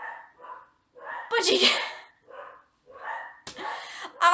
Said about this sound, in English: I'm sure you can hear that. Those are my dogs. They're having a good time.